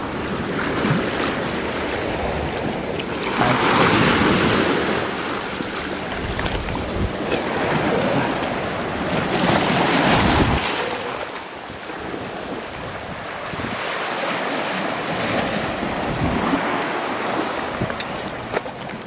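Rough surf crashes and roars continuously at Seven Mile Beach, Cayman Islands, under high water, with wind buffeting the microphone and swells of louder breaking waves every few seconds.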